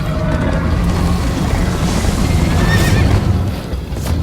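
Horse from the Minecraft Story Mode video game neighing and whinnying loudly during a chase, with rumbling hoofbeats and game sounds underneath.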